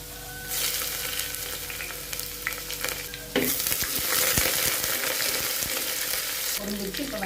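Mustard seeds, curry leaves and garlic fry in oil in a pan, hissing quietly before a sudden louder burst of sizzling and crackling that carries on steadily up close, with no one speaking.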